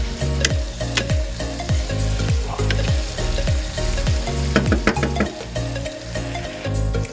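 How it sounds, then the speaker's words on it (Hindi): Potatoes fry in a pan with a steady, loud sizzle while a spoon stirs them, giving repeated scraping strokes over the continuous crackle; no one speaks. "बहुत मज़े के फ्राई हो रहे हैं"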